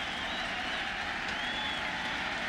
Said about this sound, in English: Fans up applauding for the strikeout.